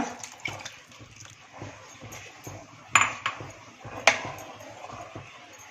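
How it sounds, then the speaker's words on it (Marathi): Spoon stirring cardamom, fennel, dry ginger and nutmeg powders into milk in a pot for a coconut-milk payasam, with clinks and scrapes against metal and two sharp knocks over a soft background. "व्यवस्थित मिक्स करूया"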